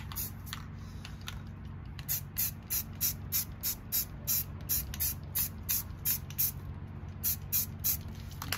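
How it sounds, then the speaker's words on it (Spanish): A spray paint can is sprayed over a deer stencil in cold weather, firing a steady run of short, sharp hissing bursts close by after a brief quieter start. "No tienen agitar su spray porque con el frío se asienta la pintura."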